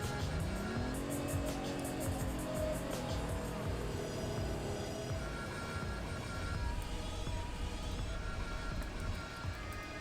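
A newly acquired car driven in a roleplay video game, its engine droning steadily with rising and falling pitch sweeps as it runs, fairly loud and continuous throughout, with other game sounds mixed in.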